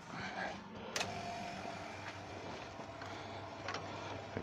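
A vacuum pump switches on while a Tigerwood bowl is being turned, giving a steady broadband motor whir with a low hum throughout and a few sharp clicks.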